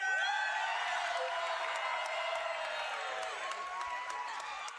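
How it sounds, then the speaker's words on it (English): Live crowd at an esports world championships LAN watch party, cheering and whooping loudly and steadily throughout, with scattered claps and high shouts on top. "Crowd, can you give me a cheer if you think the HDMI cables is going to win?"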